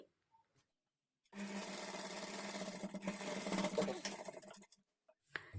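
A sewing machine runs steadily for about three seconds, stitching the folded edge of a princess-cut blouse with invisible thread, with a steady motor hum and needle rattle that stops before a brief knock at the end.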